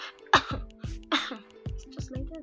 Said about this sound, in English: And then you see them they just keep coughing.